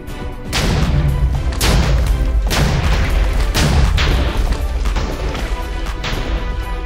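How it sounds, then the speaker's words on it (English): Heavy cannons on a pirate destroyer starship in a video game fire in a rapid string of loud, booming blasts, roughly four to five thuds in quick succession that blur into a sustained rumbling barrage. "These are all full-powered cannons. They all use the highest explosive yield possible."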